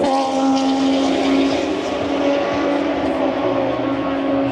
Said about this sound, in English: Sounds like some bikes have started to have a drive around.